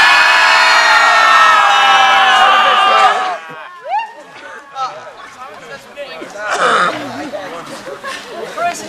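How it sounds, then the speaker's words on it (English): A group of children at a summer camp screams together loudly during a game of Simon says for about three seconds, then breaks into excited chatter, laughter and scattered shouts. "All right, Simon says, scream."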